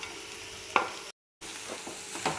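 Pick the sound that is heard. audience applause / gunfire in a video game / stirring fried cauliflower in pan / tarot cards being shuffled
stirring fried cauliflower in pan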